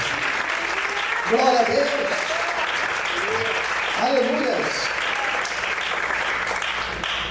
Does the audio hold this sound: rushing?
no